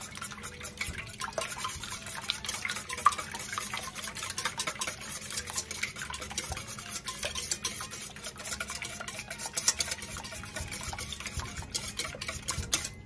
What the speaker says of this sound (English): We're gonna beat up these eggs here.